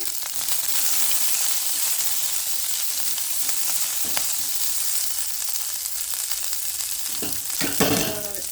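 Green tomato bajji mixture with five green chillies fries in a pan with a steady, loud, close hiss, broken by brief spoon scrapes and a louder stirring clatter near the end.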